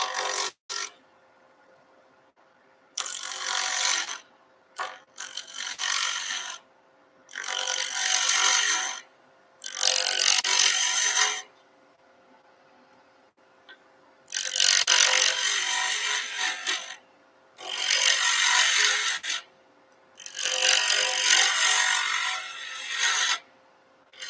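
A bowl gouge cutting wood on a spinning lathe, likely at a woodturners club meeting: loud, close, raspy hissing scrapes in repeated passes of a few seconds each, separated by quiet pauses.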